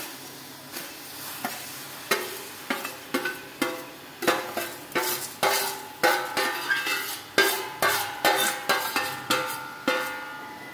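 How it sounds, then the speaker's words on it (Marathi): Roasted vermicelli is stirred in boiling water in a pot for a quick sweet shevai dish, with a spoon knocking repeatedly against the pot in quick irregular clinks and scrapes, close and fairly loud, no talk. "शेवाय टाकून झाल्यावर असं चांगलं हलवून घ्यायचं"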